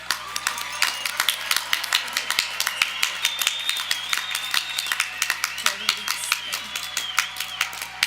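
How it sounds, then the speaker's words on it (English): Audience applause for the graduating Class of 2021 at the Solon High School commencement, a steady, dense clatter of many hands sustained throughout, with cheers faintly mixed in. "let's give the class of 2021 a large round of applause"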